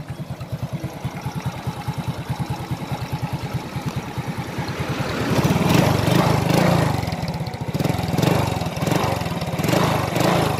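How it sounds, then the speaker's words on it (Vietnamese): A Honda Alpha motorbike engine runs close by with a steady rapid single-cylinder chug, rising louder and rougher midway as it is revved, then settling back to a fast idle, with no talk over it. "Để bạn quay chiếc này cho anh em nghe tiếng máy rõ hơn."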